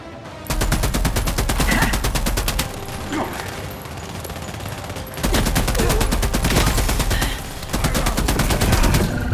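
Sustained automatic gunfire in The Expanse: Osiris Reborn, loud and dense rapid bursts running almost throughout, with brief lulls between volleys and faint combat voices underneath.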